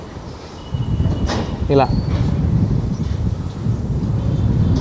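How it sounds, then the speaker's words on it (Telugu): A goods train shunts backwards at Nallapadu station in Guntur, a low steady rumble rising after the first second, with someone talking over it. "ఈ ట్రైన్ ఉంది కదా ఇప్పుడు వచ్చేది వెనక్కి"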